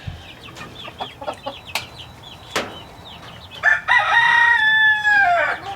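Chickens cluck in short bursts, then a rooster crows loudly nearby, its long cock-a-doodle-doo ringing out over the flock's background noise.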